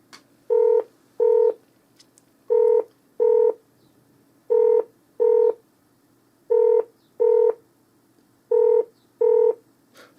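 A UK doctor's surgery phone line sounding its ringing tone while a caller waits on hold: paired double-burst rings repeating at a steady cadence, five pairs in a row, clear and alone with no talking.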